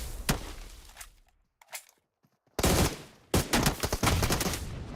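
Gunfire and grenade blasts in a PUBG Mobile esports grand final match: loud bursts of rapid shots and booming explosions, with a brief lull before a dense, sustained volley of fire.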